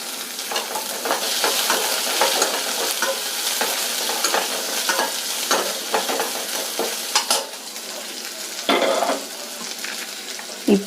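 Chopped onion sizzles and crackles steadily in a hot pan for semiya upma, with stirring scrapes and occasional louder clanks of a spoon against the pan near the end.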